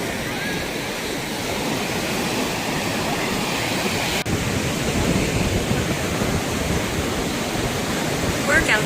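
Ocean waves breaking on the shore near Tangier, Morocco, a loud continuous roar of surf with broadband wash that swells slightly in the second half.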